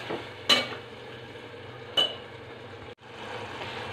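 Masala stirred and sautéed in a pan in a home kitchen, a soft steady sizzle with two sharp utensil clinks against the pan and a brief scrape, close and alone without any voice.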